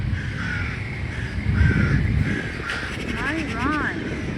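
Several crows caw loudly from a tree in Nygaardsparken, Bergen, Norway, harsh repeated calls clustering near the end, while a person talks close by over outdoor background noise.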